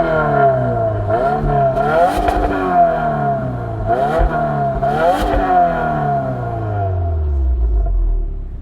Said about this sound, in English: that Boxer Flat 4 has an interesting rumble